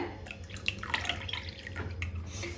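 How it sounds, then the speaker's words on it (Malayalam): Vinegar, one tablespoon, is poured into room-temperature milk in a cup while making an eggless plum cake, giving soft dripping and trickling liquid sounds over a low steady background hum, close and fairly quiet. "ഈ പാലിലേക്ക് 1 ടേബിൾ സ്പൂൺ വിനീഗർ ചേർത്ത് കൊടുക്കുകയാണ്"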